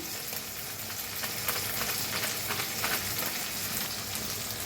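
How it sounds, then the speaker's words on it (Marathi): Onion and tomato fry in a pan as a spicy eggplant curry is cooked. A steady, close, crackling sizzle runs through the whole clip with no voices. "कांदा छान भाजा लागलाय आपला त्याच्यातच टाकूया टमाटर एक कापून घेतले ते बी भाजून घेऊया"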